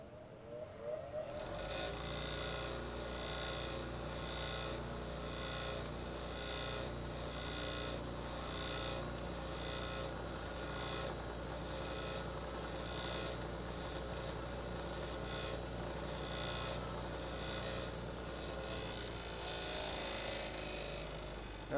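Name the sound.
filing a bevel onto a metal pin of an air rifle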